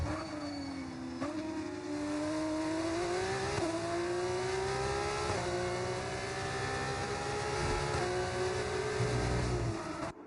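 The 3.6 V6 race car engines in a racing video game whine continuously and fairly faintly, their pitch climbing repeatedly through gear changes over about ten seconds.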